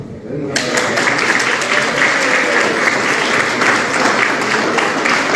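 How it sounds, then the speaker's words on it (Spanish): Loud, dense applause from a large audience at a Catholic coordinators' gathering, starting abruptly and holding steady as a continuous wash of clapping. "Démosle un aplauso a Dios."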